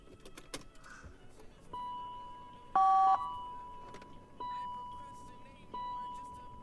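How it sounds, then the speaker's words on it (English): Faulty rear headrest motors in a V12-powered BMW whir and buzz inside the cabin, with a loud electronic tone burst and repeated beeps over a quiet background. "the rear headrest motors are broken. That's what that noise is."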